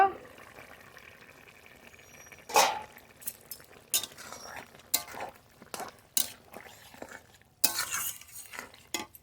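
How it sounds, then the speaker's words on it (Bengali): A lid comes off a cooking pot of bean and potato curry in a home kitchen, with several sharp metallic clinks and clatters at irregular intervals over a quiet background. "ঢাকনা তুলে নেব"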